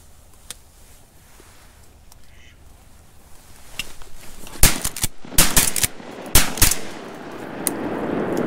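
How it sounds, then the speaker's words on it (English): Shotgun blasts ring out during a foggy duck hunt, several sharp loud reports in a quick cluster following quieter ambient sounds. "Took me a while to shoot because I was waiting for my camera to turn on."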